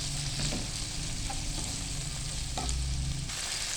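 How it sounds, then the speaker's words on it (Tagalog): Tomato sautés in a hot pan with a dense, constant sizzle while a utensil stirs it, adding a few soft scrapes and knocks, close and with no talk. "Haluin natin at saka lutuin natin maigi yung ating tomato"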